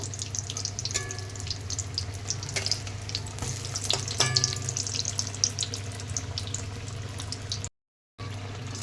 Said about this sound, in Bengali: তো দেখো কুমড়িগুলো ভাজা হয়ে গেছে, এখন তুলে নিচ্ছি, বাকিগুলো একইভাবে ভেজে নেব।